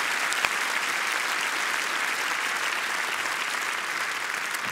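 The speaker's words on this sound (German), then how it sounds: "da kann man schon klatschen" Audience at a German comedy award ceremony claps steadily and fairly loudly throughout, a dense, even wash of applause from a large crowd.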